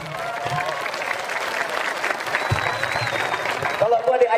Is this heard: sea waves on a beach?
no